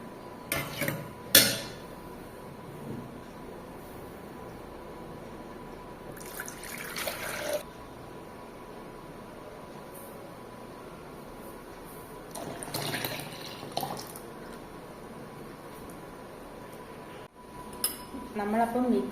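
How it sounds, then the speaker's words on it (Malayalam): Homemade vanilla ice cream mix is poured into the largest jar of a kitchen mixer in three separate short pours, each a soft liquid splash with faint clinks of containers, close and quiet between pours. "ഞാൻ ഈ ഐസ്ക്രീം മിക്സ് ഒഴിച്ചു കൊടുക്കുവാണേ"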